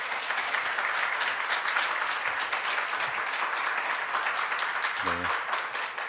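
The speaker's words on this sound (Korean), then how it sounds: "우리 목사님 나오실 때 우리 큰 박수로 환영하도록 할까요?" A church congregation at a Sunday worship service gives sustained, dense applause to welcome the guest pastor, a steady roar of many hands that stays level, with voices mixed in and a brief spoken interjection near the end.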